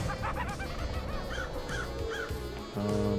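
Crows caw repeatedly in the video game Paradise Killer, several harsh rhythmic caws spaced a short distance away over a steady ambient backdrop, with a low droning tone entering at the end.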